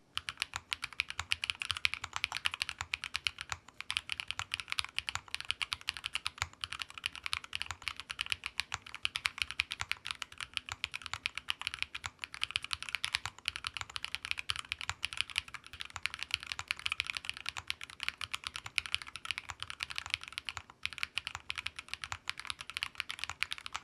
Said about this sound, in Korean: 일단은 다리를 세우지 않고 타이핑을 해봤는데요